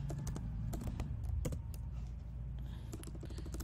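Urdu being typed on a MacBook Pro keyboard: rapid, close clicking keystrokes in an irregular rhythm with brief pauses, quiet and alone with no talk.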